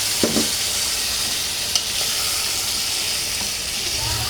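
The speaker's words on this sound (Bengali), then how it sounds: "এখন আমি মাংসগুলো দিয়ে দিচ্ছি।" Chicken pieces drop into a hot pan for a sweet, sour and spicy chicken dish with tomato, raising a loud, steady, close sizzle that runs unbroken throughout, with a couple of brief clatters near the start.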